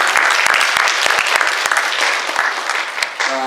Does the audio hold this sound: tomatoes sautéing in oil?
no